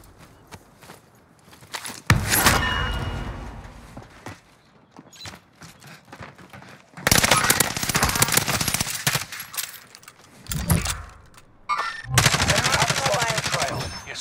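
Bursts of automatic gunfire in Call of Duty: Warzone on Rebirth Island, several loud sustained volleys separated by quieter stretches of footsteps.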